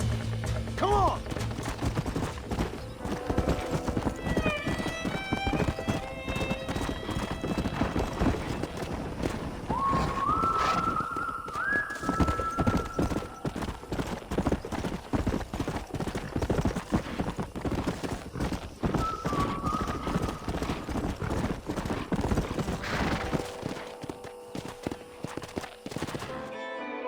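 Hooves clip-clop in quick galloping rhythm through Red Dead Redemption, with horses neighing and whinnying over the running, a few gunshot-like cracks mixed in, and wind noise throughout.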